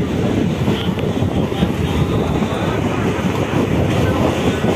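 A local train running near Shantipur station makes a steady, loud rumble with continuous rattling and clatter, and wind buffets the microphone throughout.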